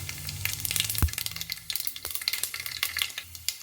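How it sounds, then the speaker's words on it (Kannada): Mustard seeds and cumin crackle and fry in a little hot oil for a dal palak tempering, a dense run of close, sharp pops and sizzles with one louder thud near the middle, no talking. "ಸ್ವಲ್ಪ ಸಾಸಿವೆ ಮತ್ತು ಜೀರಿಗೆನ ಹಾಕ್ಕೊಳ್ತಾ ಇದ್ದೀನಿ"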